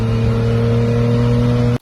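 A car exhaust revs hard under acceleration, loud and close, with a steady droning engine note that holds strong throughout before cutting off abruptly near the end.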